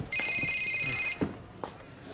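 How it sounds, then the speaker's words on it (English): A telephone rings with one bright warbling trill lasting about a second, followed by a few soft knocks and rustles in a quiet indoor room. "Steve, your phone."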